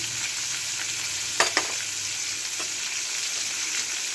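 Star fruit chutney cooking in a pan with salt and turmeric, giving a continuous near sizzle as it is stirred, with a couple of sharp scraping knocks partway through.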